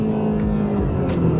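An Aston Martin DB12 in manual Sport Plus mode pulls through a gear, a steady low engine hum heard from inside the cabin without a clear rise in revs.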